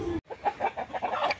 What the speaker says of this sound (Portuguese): os galos e as galinhas que estão gritando